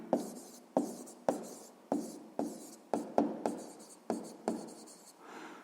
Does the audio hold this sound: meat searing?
no